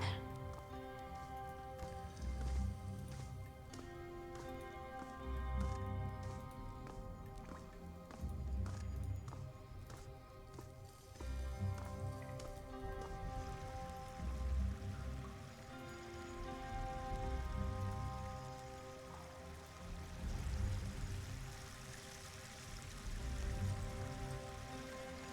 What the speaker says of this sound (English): Torrential water plummets down from the jagged openings in the old walls above.